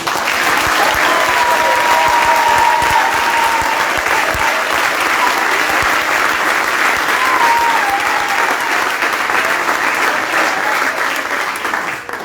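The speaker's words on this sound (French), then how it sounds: "Si tu n'applaudis pas bien, je continue." Sustained applause from a church congregation during a French-language sermon, loud and steady throughout with a dense crowd texture and faint voices mixed in.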